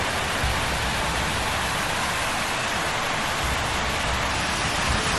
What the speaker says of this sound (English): all while being pelted by heavy rain